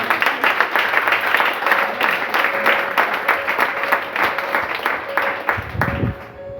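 A church congregation applauding during a sermon, dense sustained clapping from many hands filling the room, with voices calling out and a tonal hum beneath, fading near the end.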